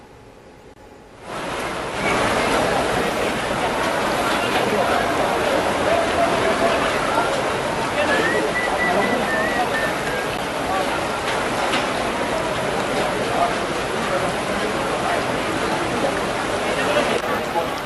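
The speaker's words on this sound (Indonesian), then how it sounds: "Banjir dengan ketinggian lebih dari 1 meter disertai arus yang deras sangat membahayakan warga." Fast, strong floodwater over a metre deep in the city of Pangkal Pinang rushes in a continuous loud broadband roar, starting abruptly and holding steady throughout with no clear voices over it.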